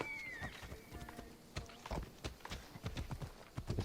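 Hooves clip-clop at a walking pace over a game soundscape in Assassin's Creed Odyssey, with a faint whistling tone near the start.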